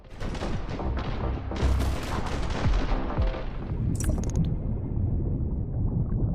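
Rapid gunfire with heavy booms in an action video game trailer for Nintendo Switch, loud and continuous within a dense, busy soundtrack.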